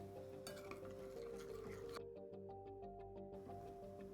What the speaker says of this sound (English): And mix it up with a spoon.